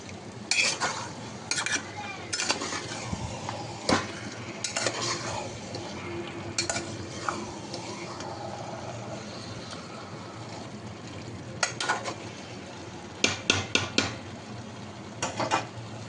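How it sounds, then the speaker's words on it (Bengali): Mutton and onions stirred in a pan for mutton kosha: repeated spoon scrapes and clinks in irregular bursts over a steady low sizzle, close and fairly quiet. "ভালো করে মেশাতে হবে পেঁয়াজের সাথে।"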